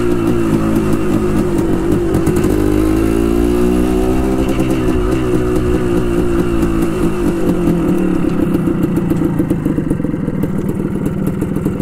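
A Suzuki TS185 two-stroke motorcycle engine idles steadily up close, a continuous low, buzzy burble with slight shifts in pitch throughout.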